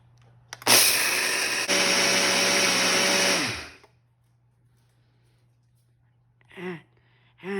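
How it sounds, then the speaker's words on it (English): A Ninja Auto IQ blender grinds coffee beans with a loud, close, high-pitched whir lasting about three seconds before spinning down. A couple of brief spoken words follow after a quiet pause. "We're gonna press blend on my Ninja Auto IQ blender."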